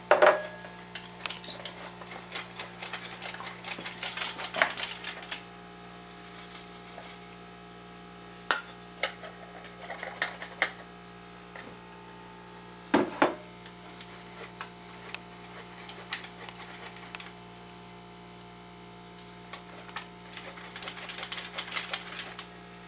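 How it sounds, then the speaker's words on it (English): Flour, salt and baking soda are sifted with a hand sifter, giving quick bursts of metallic clicking and rattling that start and stop, close by, over a low background hum. "we're going to go ahead and sift that in there right with it"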